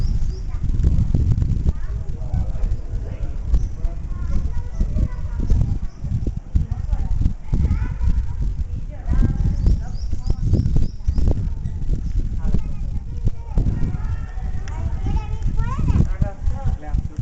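A horse's hooves clip-clop slowly on the ground beneath steady, overlapping talk from several people, with the hoofbeats close and continuous.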